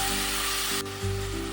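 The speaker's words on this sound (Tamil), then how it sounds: "இறால் வதங்கி கொண்டிருக்கு." Cleaned prawns dusted with a little turmeric sizzle loudly in a hot pan with curry leaves, a close, continuous frying hiss with no talk.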